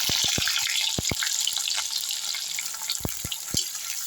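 Shallots sautéing in oil in a pan for prawn thokku: steady close sizzle with a series of sharp spatula taps and clicks against the pan, several in quick succession early and a few more near the end, no speech.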